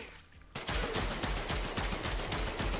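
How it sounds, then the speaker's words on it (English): Repeated weapon shots fired in semi-auto fashion in Warframe, a loud steady string of sharp bursts after a brief quiet start, with no voices over them. "now I'm firing it like a semi-auto"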